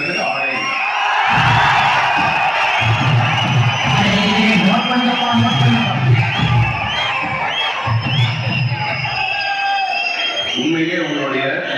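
Large crowd of fans at a pre-release event in Madurai for actor Dhanush, roaring, whistling and cheering continuously, loud and dense throughout with a few brief dips.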